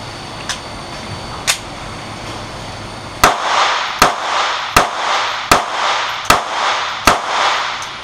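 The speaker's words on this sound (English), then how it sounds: "We have our 85 grain Extreme Penetrator 380 out of the Glock 42." A Glock 42 pistol fires .380 85-grain ammunition: two distant shots, then six sharp, loud reports in steady succession about a second apart, each with a short ringing tail.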